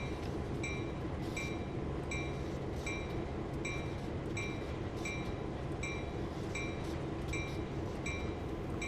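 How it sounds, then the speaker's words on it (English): A train in the video game Train Sim 2020 rolls steadily while braking to slow down. A constant rumble runs underneath a regular, repeating clatter of wheels on rail joints, with no talking. "So we're gonna put a little bit of brake on."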